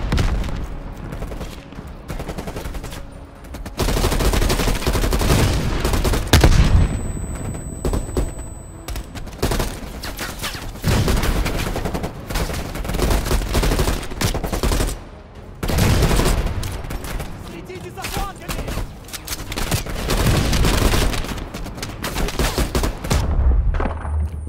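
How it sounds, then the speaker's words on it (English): An AA gun fires in Call of Duty Black Ops Cold War, a long dense barrage of rapid heavy shots in sustained bursts broken by a few short pauses, loud and close, with no voices. "AA gun, straight ahead."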